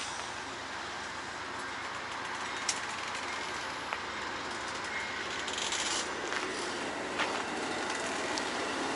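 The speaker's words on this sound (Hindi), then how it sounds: "ये ट्रेन चलना शुरू हो गई है।" An electric third-rail train at Amsterdam, New York, begins pulling away on welded track, giving a steady broadband rumble and hiss with a few faint clicks and no voices.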